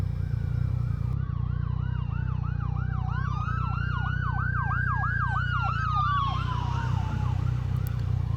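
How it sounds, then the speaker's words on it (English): An emergency vehicle siren wails in a rapid rising-and-falling yelp behind a moving motorcycle, loud and steady over a constant low engine and road rumble. "I can still hear the emergency vehicle coming up behind me"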